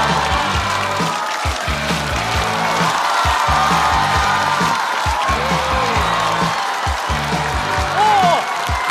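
A studio audience at a stand-up comedy show applauds and cheers to welcome a comedian onto the stage, dense sustained clapping with a few whoops over a booming music bed, loud and continuous throughout.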